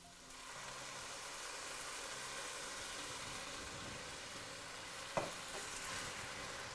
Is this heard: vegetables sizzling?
yes